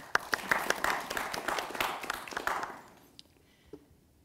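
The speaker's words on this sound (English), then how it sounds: "give a warm round of applause for Margo." An audience at a live storytelling festival in Amsterdam claps for a poet, a fairly faint scatter of hands close by that thins out and stops after about three seconds, leaving near silence.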